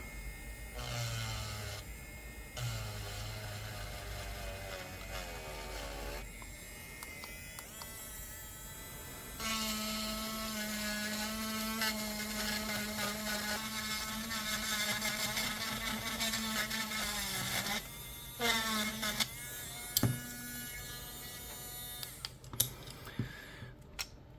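A small rotary tool grinds into a Joyzz gamepad in several bursts of high whirring, starting and stopping with short pauses and a few clicks, heard close without talk.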